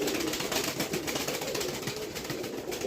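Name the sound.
pigeon cooing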